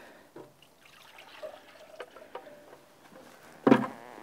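Plain water is dumped out of a measuring container, a quiet, intermittent trickling and dribbling that ends in one brief louder splash near the end.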